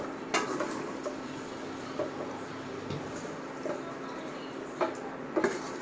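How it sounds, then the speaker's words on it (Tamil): Chicken stirred in a thick masala gravy in a pot, soft wet sizzling with occasional spoon scrapes and clinks against the pan, close and fairly quiet, with no talking. "நல்லா சிக்கன் வேகணும், அதனால நாங்கள் நல்லா கிண்டிகிட்டே இருக்கோம் மசாலா அந்த இறங்குற மாதிரி"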